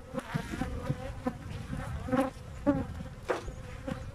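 Honey bees buzz in a soft, continuous drone around an opened hive during an inspection, with a few closer passes rising briefly above the hum.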